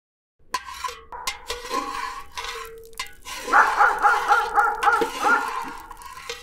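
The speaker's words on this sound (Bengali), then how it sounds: "এই সময় কুকুর ডাকছে কেন?" A dog barks repeatedly in a cartoon scene on a stormy night, starting with scattered single barks and building into a louder, rapid run of yips and barks near the end, heard alone without talk.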